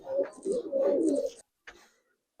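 Giribaz high-flyer pigeons coo in a loft, with rolling, throaty calls close by in two long bursts, then a brief softer coo and the start of another.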